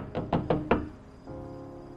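Four firm knocks on a door in quick, steady succession, close and distinct, followed by quiet room tone with no talking.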